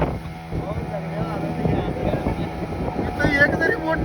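Motorboat running on the sea off Nivati on the Konkan coast, a steady engine drone and wind buffeting the microphone throughout, with people talking over it.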